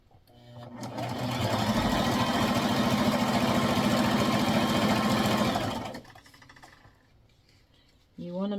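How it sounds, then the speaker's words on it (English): A sewing machine stitches a tutu skirt in one loud, close, continuous run of rhythmic needle chatter and motor whir lasting about five seconds, then stops, followed by quiet handling noise and a voice starting at the end. "So now I'm gonna go ahead and sew."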